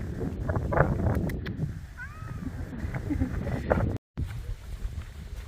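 A cat meows a couple of times, short rising-falling cries over steady wind and outdoor background noise, fairly faint.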